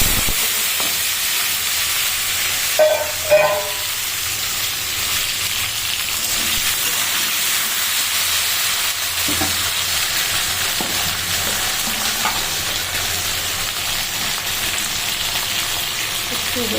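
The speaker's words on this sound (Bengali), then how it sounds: "কালো জিরে আর গোটা সর্ষে ফোড়ন" Nigella and whole mustard seeds tempering in hot oil with fenugreek and fennel make a constant loud sizzling hiss, with a couple of brief clatters early on and faint background voices.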